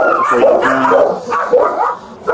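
A dog barks and whimpers repeatedly in a home during an emergency call, close and fairly loud, the yips and barks running almost continuously through the clip.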